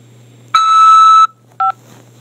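Telephone keypad tones on a call from a corrections facility: one long steady dual-tone press, then a second short tone after a brief gap, loud and close over a faint low hum.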